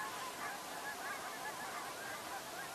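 Snow geese honk in a steady chorus of overlapping calls, moderately distant, against a broad background hiss, with no talk.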